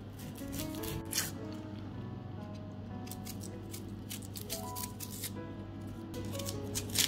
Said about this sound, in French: Je vais éplucher l'oignon.